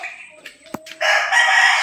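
A Rhode Island Red rooster crows nearby, one loud drawn-out call that rises sharply in the second half, after a few scattered clucks and a sharp knock.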